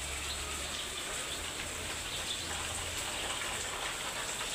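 Steady rain falls in a heavy downpour over a Bangladeshi neighbourhood, soaking a balcony. It makes a continuous, even hiss of drops on surfaces throughout, with no voices.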